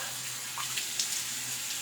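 Cool water runs from a bathroom tap during a shave, a steady, close hiss of flowing water with small splashy flickers as it hits the basin.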